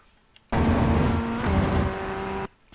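Ray FF1600 formula race car on the Brands Hatch Indy circuit in iRacing, its engine roaring loud and steady for about two seconds at near-constant revs, starting and stopping abruptly with quiet on either side.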